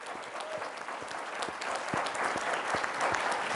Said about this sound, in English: Please give a big round of applause to our entire panel.